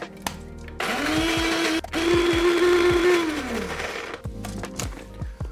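A blender grinds coffee beans, its loud motor whirring steadily for about three seconds before spinning down, with clicks and knocks from handling the jar before and after.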